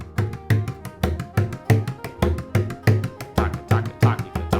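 Bodhrán frame drum keeps a steady grouped rhythm, in beats of two, two and three, under a tune, with regular low thumps and crisp taps repeating closely and evenly throughout.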